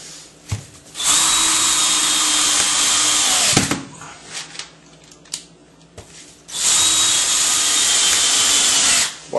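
A power drill drives screws into floor underlayment before ceramic tile is laid, with two long, loud whirring runs separated by short clicks and clatter, close by.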